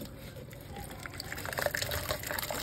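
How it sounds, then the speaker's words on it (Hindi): Water runs from a tap into a mug, a soft steady splashing gush that grows busier as the mug fills, faint and close. "ये देखो पानी भरना तो चालू हो गया बच्चों।"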